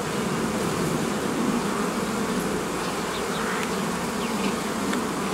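Honey bees swarm around a hive while a beekeeper splits a colony to make a new nucleus. The buzzing forms a dense, steady drone, loud and close, with individual bees zipping past and no voices.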